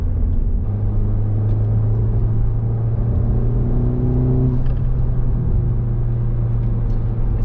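A 2023 Honda Civic Type R FL5 fitted with a Sprint intake filter drives with a low, steady engine rumble, the revs rising briefly midway with a soft intake whoosh before easing back to a cruise.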